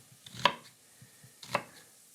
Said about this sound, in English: And then make little slices down this way